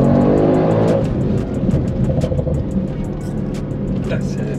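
An Audi RS6-R tuned to 730 hp kicks down and accelerates hard, a loud, steady low engine roar filling the cabin throughout with a slight dip partway, while people talk over it.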